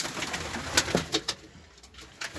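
Pigeons coo in a low, throaty murmur, with scattered clicks and wing flutters close by, in a reverberant loft.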